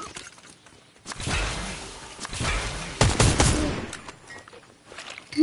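Rapid bursts of automatic gunfire in Fortnite, with one long volley and several sharp cracks between quieter gaps, loud and close, ending on a short final burst.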